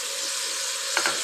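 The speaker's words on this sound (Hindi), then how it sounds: "ये देखिए अब हम इसमें टमाटो प्यूरीज ऐड करते हैं।" Mutton korma sizzles steadily in a pan, then tomato puree is poured in near the end, bringing a brief wet slap and stirring bursts over the continuous frying hiss.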